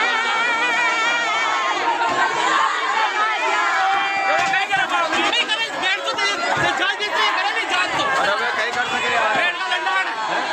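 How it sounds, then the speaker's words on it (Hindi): A crowd screams and wails after a school roof collapse in Jhalawar, Rajasthan: loud, continuous anguished voices overlapping one another with no pauses. "तो ये रूह कपाने वाली चीखें हैं जो इस समय सभी के कानों में पड़ रही हैं।"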